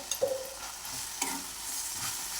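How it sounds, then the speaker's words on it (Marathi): A green chilli vegetable dish is stirred in a pan while oil hisses underneath, with a spatula scraping and tapping a few times over a steady, moderately quiet sizzle. "परत मिक्स करायची 2 मिनिटासाठी।"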